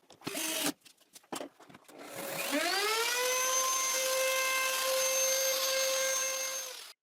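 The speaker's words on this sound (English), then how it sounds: "So I will round the top corner, but not too much, just slightly, so I will use this router bit like this." A wood router fitted with a rounding-over bit spins up to a steady, loud high whine and holds it for several seconds while shaping the corner of a plywood board, after a few brief knocks and handling clatters.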